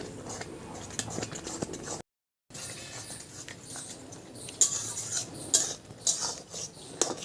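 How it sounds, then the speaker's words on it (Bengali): Garlic is crushed for tempering with a utensil in a kitchen, giving soft scraping and squishing sounds. Sharper metallic clinks and knocks follow in the second half, close and fairly faint, with no talk. "আমি একটু রসুন থেতো করে নিচ্ছি ফোড়নের জন্য"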